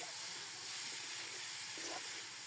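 Potatoes hit hot oil in a pan while cooking a vegetarian cabbage ghonto, giving a steady, even sizzling hiss with no talking.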